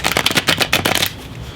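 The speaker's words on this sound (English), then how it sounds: "We're going to do one more shuffle." A deck of tarot cards is shuffled by hand in a quick riffling burst of crisp papery flutters lasting about a second, close and loud, then a brief quiet pause.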